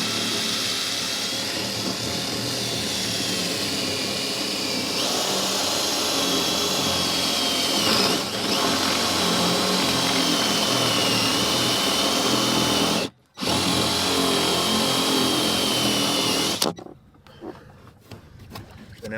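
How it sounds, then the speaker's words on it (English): A power drill bores a hole through a thick boat hull, a loud continuous whine that runs steadily, cuts out briefly, resumes, then stops, leaving quieter handling noise. "we're going to have to drill it from the other side as well because of how thick it is"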